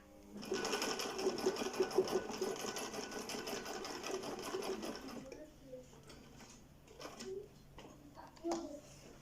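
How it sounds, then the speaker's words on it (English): A Husqvarna Viking 3020 sewing machine stitches leather in a fast, steady mechanical whir for several seconds, then stops; a voice and light handling noises follow. "you want a sewing machine that wouldn't even disturb you"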